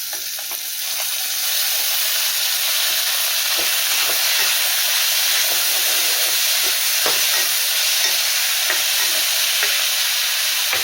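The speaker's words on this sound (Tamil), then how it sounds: "வெங்காயம் தக்காளி எல்லாம் நல்லா வதங்கிச்சு" Onions and tomatoes sauté in a pan for a Tamil sundakkai kara kuzhambu. A loud, steady sizzle and hiss continue throughout, with occasional stirring scrapes and no voices.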